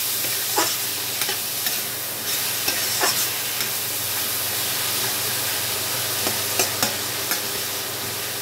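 Radish leaves cooking in a pan with turmeric, a steady sizzle and hiss broken by repeated scraping stirs at an uneven rhythm, close and fairly loud with no voices.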